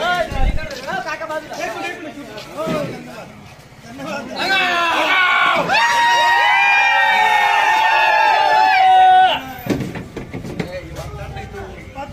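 Supporters celebrate Kishor Darade's teacher constituency election victory in Yeola, Nashik, with loud close crowd cheering, whoops and shouting building into a sustained roar, then fading back to chatter; people are talking and shouting throughout.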